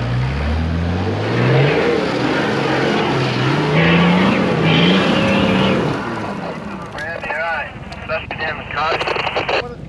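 A 4WD vehicle climbs the rough Telecom Hill track at Amamoor, its engine revving and straining loudly up close, with wind buffeting the microphone and a man calling out over it.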